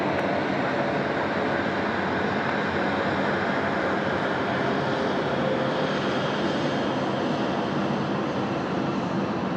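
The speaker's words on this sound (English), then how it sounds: "This is QF 1504 coming in from Canberra. This is a Boeing 717." A Qantas Boeing 717 on approach to land at Sydney Airport after arriving from Canberra gives a steady, broad jet roar that holds evenly at moderate loudness throughout.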